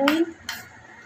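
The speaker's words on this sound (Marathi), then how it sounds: "आता याला मिक्स करून घेऊया." A spoon clinks twice against a bowl while spice masala is stirred together, two quick, close scraping taps followed by quiet.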